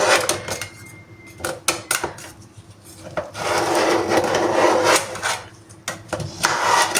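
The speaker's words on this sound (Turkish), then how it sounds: "Şimdi şöyle bir bıçak yardımıyla kenarlarından ayırıyorum." A knife blade scrapes and rubs around a cake pan's edge, loosening the cake, in short bursts, rasping close by, with brief pauses between strokes.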